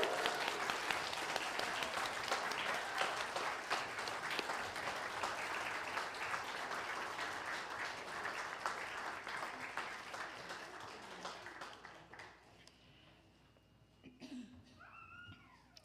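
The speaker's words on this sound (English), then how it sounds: "the rest of us will give a heartfelt applause" An audience claps continuously to welcome new members, a dense, moderately distant applause that holds steady before thinning out and fading near the end.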